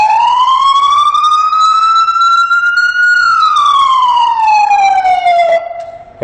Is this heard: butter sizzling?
no